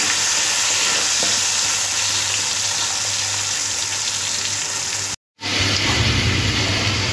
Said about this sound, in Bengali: এই মাছ ভাজার তেলের মধ্যে আলুগুলো দিয়ে ভেজে নেব